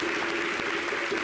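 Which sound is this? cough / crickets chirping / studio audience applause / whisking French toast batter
studio audience applause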